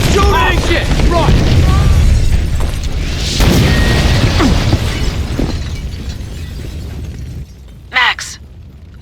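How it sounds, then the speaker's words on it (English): Building explosions in the video game Max Payne 2, loud continuous rumbling blasts and crashing debris that slowly fade, followed by a brief sharp burst near the end. "The building's blowing up."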